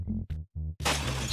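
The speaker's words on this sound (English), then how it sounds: "Working together, you smash that picture of Trevor's family." A picture being smashed in the Jackbox game Bomb Corp. Short tonal game sounds lead into a sudden bright, loud shattering crash of breaking glass that rings out to the end.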